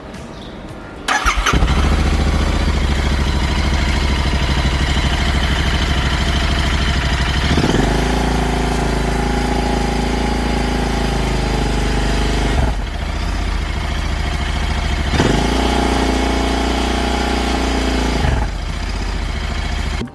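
A Royal Enfield Interceptor motorcycle engine with a jammed return cable runs loud and close, with a low steady thrum that rises and holds as the throttle stays open, in several sustained stretches with brief dips between them.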